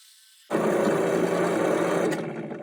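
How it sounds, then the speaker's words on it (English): A power drill with a 1/2 inch bit spins up abruptly and bores into a wooden table top, a loud, close, steady whine that holds for about two seconds before easing off. "You can see here, all the holes have been drilled."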